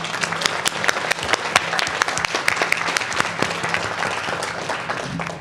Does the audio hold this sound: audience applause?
yes